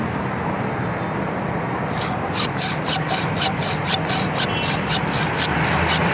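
Rhythmic back-and-forth rasping of a hand saw biting through electrical cable, steady strokes over a constant background hum, close and fairly loud.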